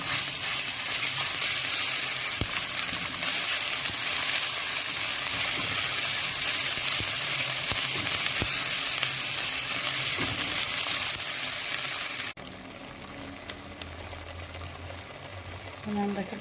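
Tomato paste fries with onions in a pan, a loud continuous sizzle that drops abruptly to a quieter bubbling near the end, with faint clinks of stirring.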